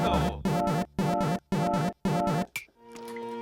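A synthesized chord from a video game clown car pulses in five short, even stabs, loud and buzzy, then a brief blip and fainter electronic tones.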